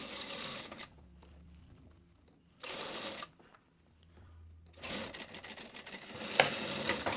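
A sewing machine stitches the armhole of a mermaid-style dress with vertical panels, running in three rapid bursts of needle chatter separated by quiet pauses, with the last and longest run near and clear.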